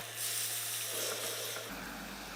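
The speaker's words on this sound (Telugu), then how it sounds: "నేను ఇప్పుడు హాట్ వాటర్ పోసేస్తున్నా" Hot water poured into a pan of simmering palak paneer curry, a brief soft hiss and steamy sizzle that fades into a low bubbling simmer, quiet and close with no talk.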